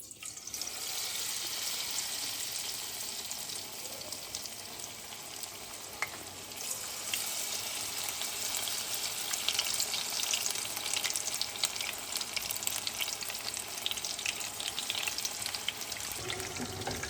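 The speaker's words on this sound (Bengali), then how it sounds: "তো এবার আমি এগুলো সাটেগুলো ভেজে নিচ্ছি।" Mini chicken satay deep-frying in hot oil crackles and bubbles with a steady, dense sizzle that runs unbroken from start to finish, close and fairly quiet, with no voices.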